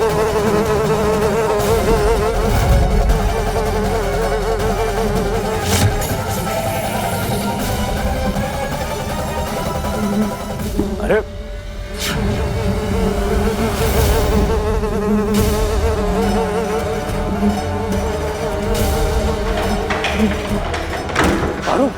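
A swarm of bees buzzes loudly and continuously in a dramatic indoor scene, the dense droning hum filling the space almost without a break, while a voice briefly exclaims over it.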